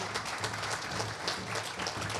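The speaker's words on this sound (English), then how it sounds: "Give yourselves a round of applause" Audience applause at an Indigenous cleaner energy forum, a steady wash of clapping from a crowd that carries on evenly throughout.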